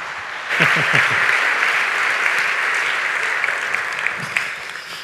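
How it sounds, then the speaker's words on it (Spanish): Strong audience applause at an entrepreneurship talk in a hall, a dense, steady burst of clapping starting after a brief pause and holding for several seconds, with a few voices mixed in. "Un aplauso para él para recibirlo y escuchar su historia."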